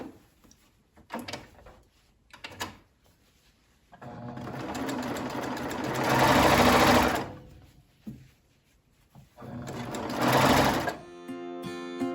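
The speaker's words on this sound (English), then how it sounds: "The Baby Lock Triumph Serger, and it is not only a serger but a cover stitch machine" A Baby Lock Triumph serger and cover stitch machine stitches a drop-shoulder T-shirt in bursts, with short clicks and handling noises between two long, loud runs of the motor.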